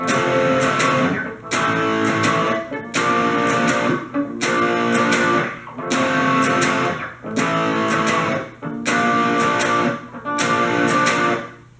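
Distorted electric guitar plays the verse of a song, repeated chord bursts in a steady pattern with short gaps between phrases, loud and close with no voices.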